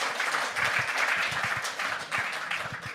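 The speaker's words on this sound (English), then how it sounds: "Another warm applause." Warm applause from a conference audience at a biogas and biomethane summit, a steady wash of clapping with a few distinct nearby claps, lasting a few seconds.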